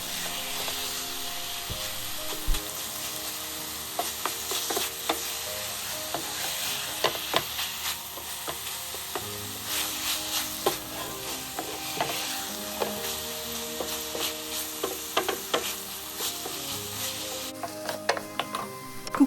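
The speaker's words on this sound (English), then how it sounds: "stir it and mix the meat really well. Let it mix with the onion and the ground masala." Minced chicken with onion and ground masala fries on medium-high heat in a keema curry, a steady sizzle broken by repeated spoon clinks and scrapes against the pan as it is stirred, close and unaccompanied by speech.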